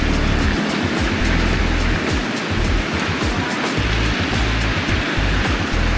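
Waterfall on the border of Tanah Datar regency, heard as a loud, continuous rushing roar of falling water that fills the whole clip without talk.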